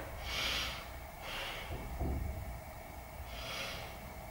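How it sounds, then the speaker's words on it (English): A few slow, deep breaths taken during a beginner yoga stretch, soft airy inhales and exhales spaced about a second apart, faint and close with no talking. "we're going to take a few breaths here"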